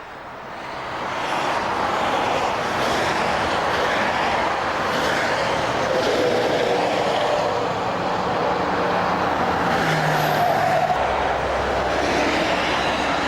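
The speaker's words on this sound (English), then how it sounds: "let's now leave this noisy dual carriageway" Steady roar of passing vehicles on a busy dual carriageway, a continuous broadband rush with no pauses, fairly loud and close.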